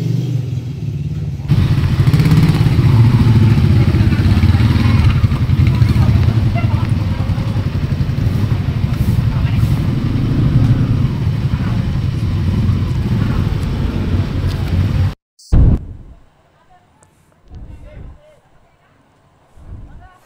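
A group of five motorcycles on the Pranten–Dieng mountain route, with a loud, steady engine rumble for about fifteen seconds that cuts off abruptly, leaving faint sounds and brief voices.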